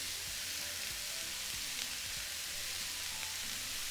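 Ground meat seasoned with chili powder, paprika, cumin and other spices frying in a pan, a constant close hiss and crackle with soft low bumps from stirring throughout.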